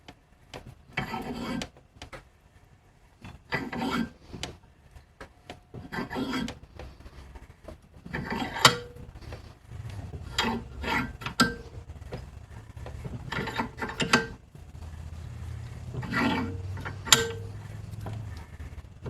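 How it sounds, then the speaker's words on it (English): Metal pieces for an Alice frame being squeezed in a vise, giving a run of intermittent grinding, creaking and rubbing bursts from the tightening mechanism, close and moderately loud with no talk. "I'm just going to put them in the vise, squeeze them, and make them oblong"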